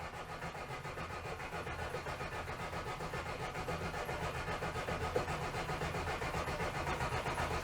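A Citroen GSA's starter cranks the engine with the choke set after the car has sat with its fuel drained, a steady rhythmic churning that grows slightly louder without catching.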